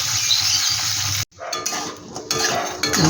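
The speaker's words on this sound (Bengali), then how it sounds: "শুটকি মাছ একটু ভালো করে কড়া করে ভাজবে" Dried fish (shutki) frying crisp in a pan, a loud close sizzle that drops out abruptly for a moment, then returns with scraping and clinks of a utensil against the pan.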